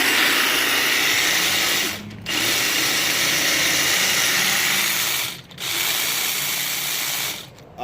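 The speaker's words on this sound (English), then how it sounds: "so to activate the blades, you got your little safety here. Press down, hit the trigger." Milwaukee M18 FUEL hedge trimmer attachment on a QUIK-LOK power head running its blades, a loud steady mechanical buzz that dips briefly three times as the trigger is released and pressed again.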